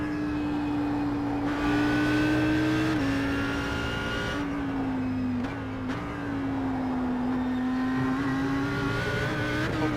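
Audi V10 race car in the iRacing sim, engine loud and steady at high revs through a GT sprint race, with brief gear-shift dips, pitch rising and falling as it accelerates and lifts, no talk.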